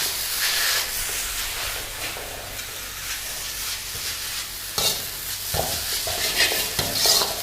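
Vegetable soft noodles stir-fry in a hot pan as soy sauce goes in, a steady loud sizzle and hiss with scraping stirs and sharper spikes of spitting near the end.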